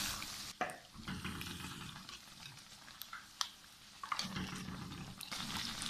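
Naan pakoras sizzle steadily in hot oil in a pan, a soft continuous frying hiss broken by occasional stirring clatter and pops.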